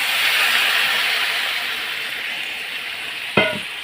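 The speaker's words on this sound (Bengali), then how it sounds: "এখন আমি একটু জল দেবো কেননা জল না দিলে সিদ্ধ হবে না হ্যাঁ জল দিয়ে দিলাম" Ash gourd greens cooking in a pan give off a steady, loud sizzling hiss that slowly fades, with a brief clatter near the end.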